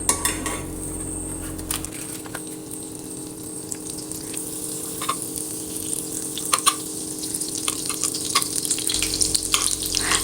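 Butter sizzles and crackles in a pan on a stovetop, a close, continuous frying hiss broken by occasional sharp clicks and taps of utensils against the pan, with no talking.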